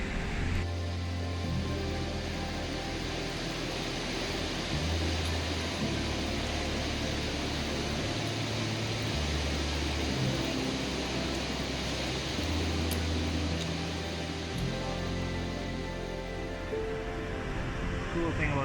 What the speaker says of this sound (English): you can hear big spring coming out of the side of the mountain here.